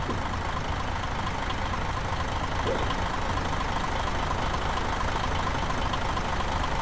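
A MAN truck engine in Euro Truck Simulator 2 idles with a dense, steady low rattle and hum, loud and unbroken throughout, with no voices.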